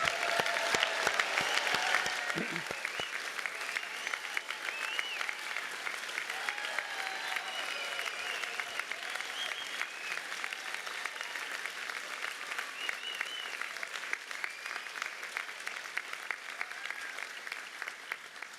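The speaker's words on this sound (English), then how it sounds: "Now's the time for a noisy applause." Loud, sustained applause from a graduating crowd fills a great hall at a university graduation ceremony, a dense wash of many hands clapping for the whole stretch, with a few sharper claps near the start.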